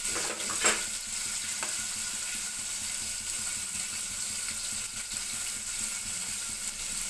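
Curry leaves and green chillies fry in hot oil for Telugu hotel-style sambar, a steady close sizzle and crackle with a brief louder spatter near the start.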